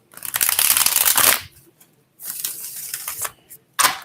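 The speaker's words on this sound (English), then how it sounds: "need a shuffle." Tarot cards being shuffled in two bursts of rapid riffling, a long loud run followed by a shorter one and a final brief flick, close and without voices.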